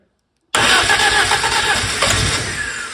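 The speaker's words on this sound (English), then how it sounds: "Now let me see if I can at least get a crank." A classic BMW 2002 with a swapped-in turbo engine cranks and catches suddenly after a half-second of silence, then holds a loud, close, steady running roar for the rest of the moment.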